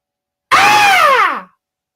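A voice imitates a fox scream: one loud, drawn-out wavering shriek lasting about a second, sliding downward at the end, alone with no other sound around it.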